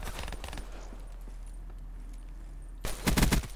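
Rapid-fire gunshots in a video game, a burst of quick shots near the start, a quieter lull, then a louder dense volley near the end.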